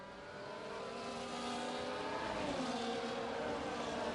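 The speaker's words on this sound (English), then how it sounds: "that's the Ferrari of Mike Speed getting out of the way there" A Ferrari race car in a sim racing game, racing at Australia, holds a steady, moderately loud engine drone throughout, with a slight rise in pitch and no voices.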